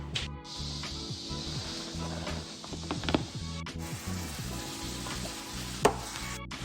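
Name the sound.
chopped vegetables and meat frying in oil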